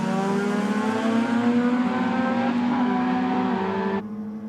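Two rotary-engined cars, a Mazda R100 and an RX3, racing in a roll drag, their engines droning loud and steady with high harmonic whine that cuts off sharply near the end, leaving a fainter engine hum.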